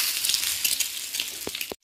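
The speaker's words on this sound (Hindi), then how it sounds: "अब सारे एग्स को मैं ऐसे थोड़ा थोड़ा शेलो फ्राई करके" Eggs shallow frying in oil in a pan give off a loud, close, steady sizzle with a couple of brief sputters near the end before it cuts off abruptly.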